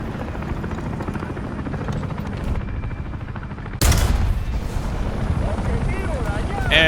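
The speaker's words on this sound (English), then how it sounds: "Now there's a chopper coming." A helicopter approaches in a tank combat video game, its rotor thrum rising amid gunfire and explosions, growing louder and closer partway through.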